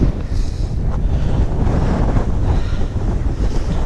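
Strong westerly wind gusting across a rocky mountain ridge with scree slopes, a continuous loud buffeting roar battering the microphone with no voices heard.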